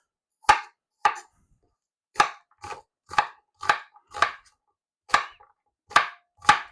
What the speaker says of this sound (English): We're just going to chop them into little, dicing it, I guess they call this.